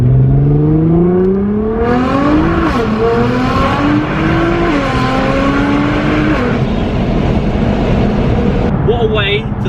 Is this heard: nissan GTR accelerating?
yes